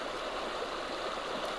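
River water in Sedona, Arizona rushes and gurgles in a steady, soft broadband wash, continuous and fairly close.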